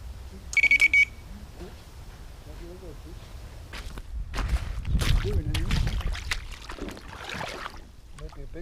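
An electronic bite alarm on a sardine-baited pike rod gives a short, sharp burst of high beeps early on, followed by quiet rustling, footsteps and movement on the bank.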